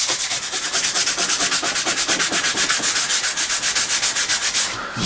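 Soft wood on a model kit is hand-sanded in quick, even back-and-forth strokes, a loud, close, rhythmic rasp that stops near the end, with no talking.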